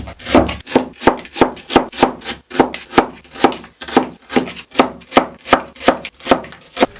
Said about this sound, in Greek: Αφού κόψαμε τα κρεμμύδια μας,